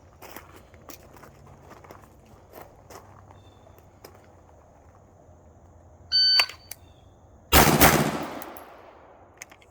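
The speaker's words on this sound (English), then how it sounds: "I have to get 2 rounds off in 3 seconds, so here we go" A Staccato P DPO pistol fires two rounds at a target five yards away: two sharp, loud reports just over a second apart after a quiet lead-in, the second blast ringing out with a short echoing tail.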